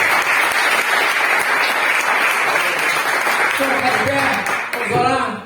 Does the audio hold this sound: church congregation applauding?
yes